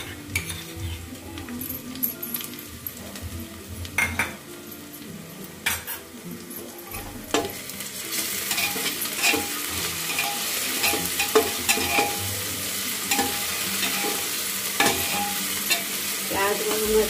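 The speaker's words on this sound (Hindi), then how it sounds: "इसमें डालते हैं लहसुन का जो हमने पेस्ट बनाया था," Ginger-garlic paste frying in a pan with onions for an aloo parwal sabzi, a steady close sizzle with repeated scraping and clinking of a spoon stirring against the pan.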